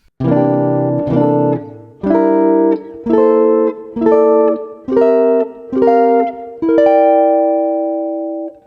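Jazz guitar plays vertical patterns as seven evenly spaced arpeggiated groups, each a quick cluster of picked notes, close and clean, with the last one left to ring and fade.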